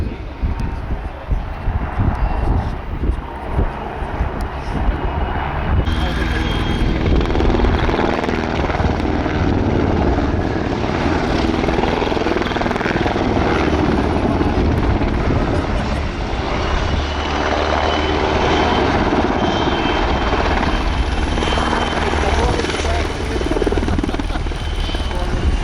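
Two PZL W-3A helicopters perform rolling landings at an airshow, a loud, continuous rotor and turbine roar that stays steady and close throughout, with broadband wash and occasional voices underneath.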